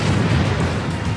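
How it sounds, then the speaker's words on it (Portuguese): The Chernobyl reactor number 4 explodes as a loud, dense roar with a heavy low rumble. The sound is sustained and fills the whole moment with no pause. "1 minuto depois, explode o reator número 4 de Chernobyl."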